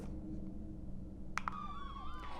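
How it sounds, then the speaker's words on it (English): Emergency vehicle sirens blaring during a roadside parade honoring first responders outside a hospital in Richmond County, a wailing siren rising in after a couple of short horn-like blasts, heard from a moderate distance over low traffic rumble. "sirens blared in their honor"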